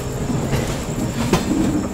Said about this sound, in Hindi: यहाँ अपनी ट्रेन पहुँच चुकी है दानापुर रेलवे स्टेशन